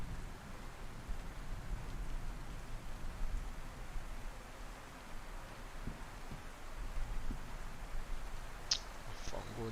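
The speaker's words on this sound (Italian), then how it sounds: "E che là, guarda come piove" Steady rain falls in a zombie survival simulator game, a soft, even wash of hiss that runs unbroken throughout with a few faint clicks near the end.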